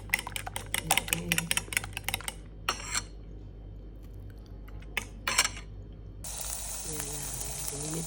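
Beef pepperoni heating in a pan, a faint sizzle and crackle that swells into a steady hiss near the end, broken up by sharp clicking taps.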